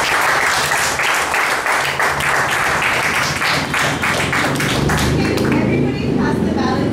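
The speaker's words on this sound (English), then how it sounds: "let's have a round of applause for it" Sustained round of applause from an audience at a speech evaluation session, steady dense clapping throughout, with some voices mixed in near the end.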